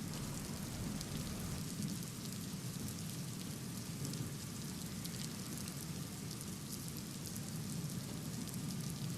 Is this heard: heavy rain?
yes